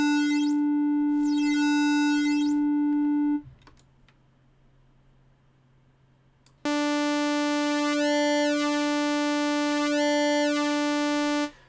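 A bit-reduction effect is swept across synthesizer wave shapes. A steady harmonic-rich tone with shifting overtones cuts off into near-silence, then comes back bright and buzzy, wavering as the shape changes. Electronic and loud, with no talking.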